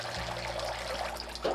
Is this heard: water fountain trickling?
yes